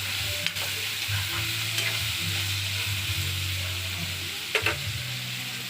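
Tofu and bitter melon sautéing in a pan, a steady close sizzle with light stirring scrapes and a couple of utensil knocks.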